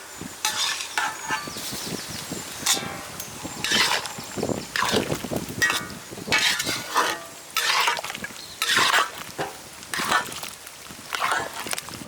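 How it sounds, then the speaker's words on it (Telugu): Roasted spice powder being stirred into cooked vegetables and rice for Karnataka bisibelebath, with close scraping strokes of a spoon against the pot repeating irregularly over a faint sizzle. "ఆ పొడిని తీసుకొచ్చి ఇందులో కలుపుదాం"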